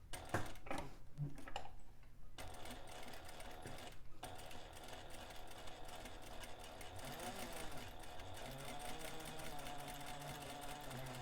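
Sewing machine stitching the interior zipper overlay of a Loule bag, a fast steady mechanical whirr of needle strokes running almost continuously, with brief pauses at corners and pivots.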